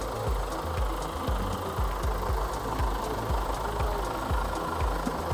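A diesel tractor engine idles close by with a steady, rhythmic low knocking that repeats about twice a second and runs evenly throughout.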